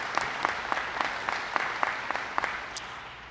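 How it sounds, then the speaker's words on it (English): Applause for the city attorney at a Columbus Veterans Appreciation Day event, a sustained patter of many hands with a few sharper claps standing out, fairly distant and even. "A round of applause for our city attorney"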